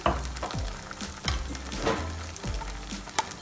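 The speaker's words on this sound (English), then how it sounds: "Now just stir everything out" Macaroni with pasta dressing and Szechuan chutney is stirred in a pan over a low flame: a soft continuous sizzle broken by several scraping strokes of the spoon at an uneven rhythm.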